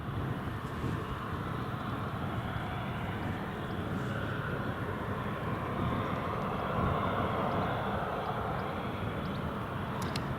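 A Ryanair Boeing 737 arriving from Ibiza on approach to Newcastle International Airport produces a constant, moderately distant jet rumble and hiss that stays even across the span.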